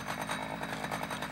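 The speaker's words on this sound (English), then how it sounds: "a ruffed grouse that came running to the sound of a chainsaw" A chainsaw running steadily in woodland, a continuous buzzing engine drone with rapid pulsing, moderately distant and fairly faint.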